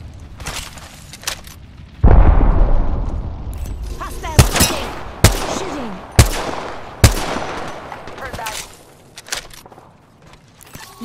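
A grenade explosion in the video game Apex Legends: a heavy, booming blast opens with a deep rumble, followed by several sharp, loud gunshot cracks spaced a second or so apart over a dark ambient bed.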